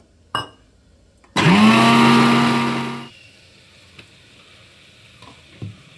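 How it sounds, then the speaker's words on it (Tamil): A mixer grinder whirs loudly for about two seconds grinding tomato and coconut into paste, its motor pitch rising then steady, then cuts off, with brief clinks before and after. "நல்லா நைஸாக பேஸ்ட் மாதிரி அரைச்சி எடுத்துக்கோங்க."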